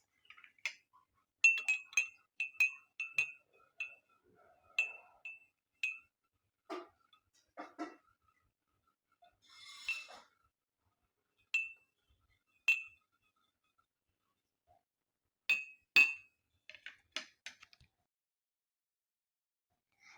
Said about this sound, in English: Stir with the spoon for mix.